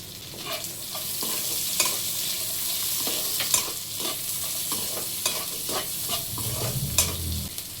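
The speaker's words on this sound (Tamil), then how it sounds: "ரெண்டையும் சேர்த்து நல்லா வதக்கி எடுத்துடலாம்" Onion and capsicum sautéing in a pan, a continuous close sizzle broken by repeated scraping and stirring strokes of a spatula, with no talk.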